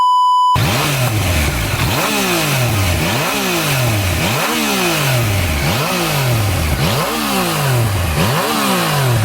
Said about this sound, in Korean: 엔진 소리는 괜찮죠.